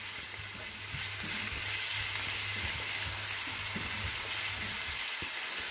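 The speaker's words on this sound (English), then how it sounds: "add in our garlic and ginger paste. Mix this in very well." Garlic and ginger paste fries in a pan for a vegetable pulao, with a steady bright sizzle and occasional scraping stirs and a low hum underneath.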